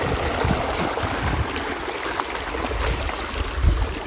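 Rainwater rushes steadily along a road, a continuous broadband wash with gurgling and splashing, fairly close and loud, no voices.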